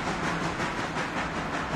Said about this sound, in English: I pretty much used half of the reserves of coal for this locomotive.